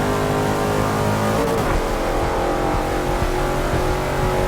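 A Shelby Cobra 427 racing in Forza 6 roars steadily at high revs, its loud engine note holding throughout with a brief shift in pitch partway through, close and unbroken.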